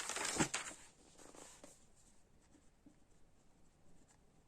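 A pen scratching across paper in close, quiet strokes, with a brisker burst of writing at the start that tapers into softer, sparse scribbles.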